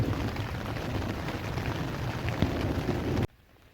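A steady broadband hiss of easing rain after a summer storm in a forest, pattering on surfaces, close and continuous, cutting off abruptly near the end to near silence.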